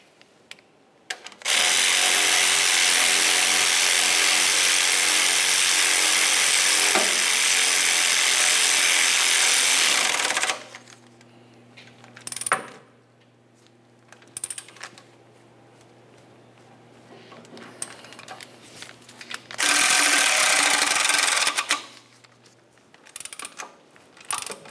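Power-tool whirring tightens the exhaust manifold mounting bolts on a 2009-2010 Pontiac. Two long, loud bursts are separated by a quieter stretch with a low steady hum and a few brief clicks.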